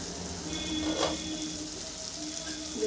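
Spices sautéing in oil in a pan, a soft steady sizzle and crackle running continuously at low level, close up with no speech over it.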